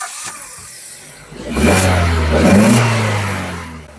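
A 2025 Maruti Suzuki Ertiga engine cranks and catches, then revs up twice in smooth rising swells before settling back toward idle, close and loud.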